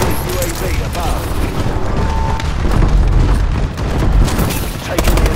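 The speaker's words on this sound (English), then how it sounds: "Enemy bombing run incoming." A bombing run in Call of Duty: Advanced Warfare unleashes loud, continuous booming explosions and gunfire crackle, dense and close throughout, with faint voices mixed in.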